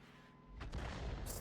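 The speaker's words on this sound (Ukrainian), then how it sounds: "ще друга арта пихнула" A single heavy artillery shot booms in World of Tanks, a deep, broad thump that lands mid-way and rolls on through the rest, fairly distant and muffled over the game's background hum.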